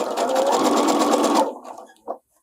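A sewing machine stitches two pieces of fabric together for binding, with forward stitches and a backstitch. It runs steadily and close for about a second and a half, then stops, and a short soft knock follows.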